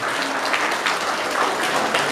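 An audience applauds at an annual award ceremony in Kalyani, a steady dense wash of clapping that holds evenly for about two seconds with no voices over it.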